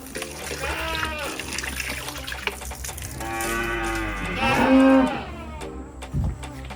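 A cow lets out a long, loud moo, rising and then falling, over a background of splashing water and faint farmyard noise.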